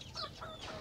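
A native desi hen on a farm near Jodhpur gives a few quick, soft clucks in a brief, faint burst.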